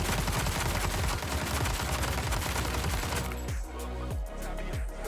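Rapid automatic gunfire in the shooter game Arena Breakout, a dense, loud burst of shots that thins into a few spaced single shots toward the end, with no talking.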